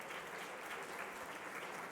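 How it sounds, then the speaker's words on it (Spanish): Steady, soft audience applause for a guest lecturer at an inaugural humanism lecture on Bolivian music, an even wash of clapping from a distance with no pauses. "Brindemos un fuerte aplauso, por favor, una vez más para nuestra maestra hoy"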